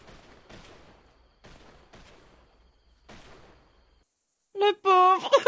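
Hunting shotgun blasts in GTA on Cayo Perico, a couple of loud, close shots near the end following a stretch of quiet speech.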